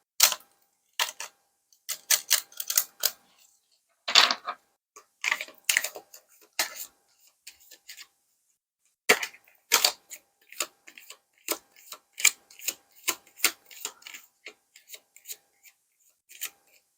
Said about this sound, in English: A lot of these are new, so I'm going to give them a few shuffles.